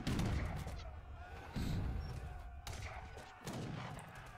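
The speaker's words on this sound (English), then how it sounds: "the range of the port mortars is insane" Port mortars in Age of Empires III fire a series of heavy booming shots, about four blasts spaced roughly a second apart, each rolling over a dense battlefield din.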